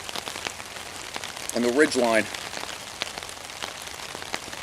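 Rain patters steadily on a Dyneema (Cuben) fiber tarp overhead, a dense close drumming of drops, while someone speaks briefly over it.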